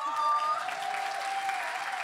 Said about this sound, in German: Und einen herzlichen Applaus für Tim Bodner